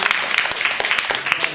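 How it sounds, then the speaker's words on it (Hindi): Schoolchildren at a primary school clapping for their teacher, a short burst of close, busy hand claps with voices mixed in. "एक बार तालियां बजा देना।"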